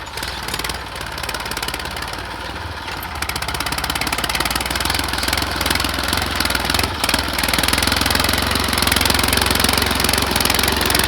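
A tractor engine pulling a cultivator in a farm field runs continuously nearby with a rough, knocking rumble that grows slightly louder over time.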